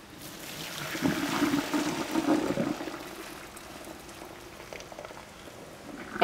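Boiled spaghetti is poured into a strainer at the kitchen sink, a rushing gush of water that swells for a couple of seconds, then eases into a softer trickle and drip.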